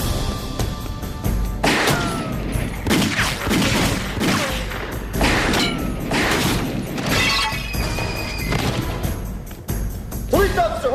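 Gunfire erupts in a police drama scene: a rapid series of sharp, loud shots and crashing impacts spread over several seconds, with voices shouting in between.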